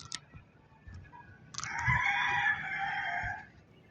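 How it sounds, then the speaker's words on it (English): A white chicken crows loudly and close by, a drawn-out cock-a-doodle-doo that follows a few soft clucks and scattered small noises, with no talking. "The white chicken."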